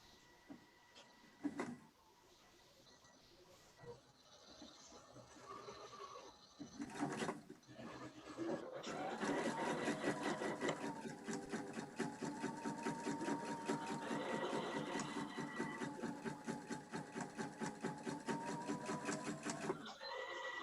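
A sewing machine stitches a half-moon zip bag: a few handling knocks come first, then a steady, rapid mechanical stitching hum runs close and continuous for about ten seconds before stopping.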